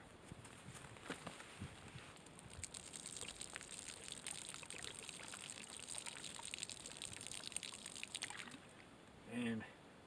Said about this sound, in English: It feels like a sin to dump out